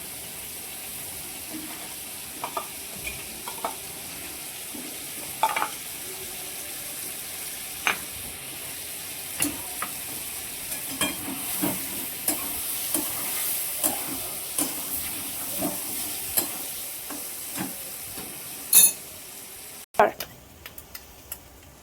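Spice paste for shahi paneer frying in a pan: a faint, steady hiss with scattered soft pops and crackles running throughout.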